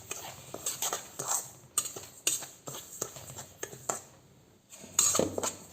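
A cup of semolina is dry-fried in a kadai for rava upma, and the spoon scrapes and clinks against the metal in irregular bursts. Quiet rustling fills the gaps between the stirring strokes.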